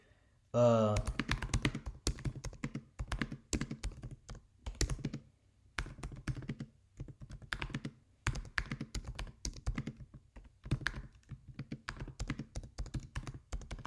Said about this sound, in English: So I typed this in.